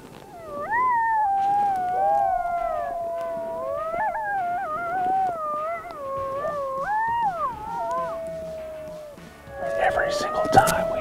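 Several coyotes howl in answer to a call on a night hunt in Kansas, a chorus of rising, wavering yips and howls lasting throughout, with a louder burst of overlapping howls near the end.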